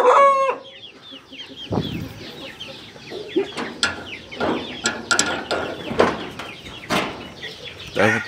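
Chickens cluck in a backyard coop at a rural home, a busy mix of close, choppy clucks and squawks with a brief crow-like call at the start.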